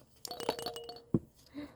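Soft tinkling chime notes ring out as a small roly-poly toy is shaken, with a light thump and faint clinks, close and quiet.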